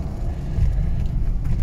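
A 2019 Ford Ranger juddering as it pulls away, its engine a low, uneven rumble that grows and shakes under load, heard from inside the cab with no one talking.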